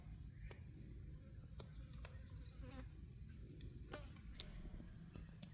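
Bees buzzing around tall flowering garden plants, a faint steady insect hum with a high whine above it and a few brief ticks, quiet and distant outdoors with no talking.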